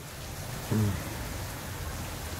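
Heavy rain pours in a steady, dense hiss that stays even throughout, with one brief low tonal sound near the start and no talk.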